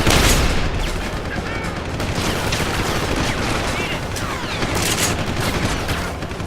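Dense gunfire in the Deus Ex: Human Revolution video game, continuous loud rapid shots and bursts filling the whole stretch, with a player talking faintly underneath.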